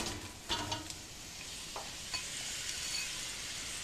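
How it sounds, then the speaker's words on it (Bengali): Onions fry gently in half a cup of oil over low heat for beresta, giving a quiet, steady sizzle with a few soft stirring scrapes near the start. "এখন 1/2 কাপ তেলে আমি এই পেঁয়াজটা হালকা করে বেরেস্তা করতে"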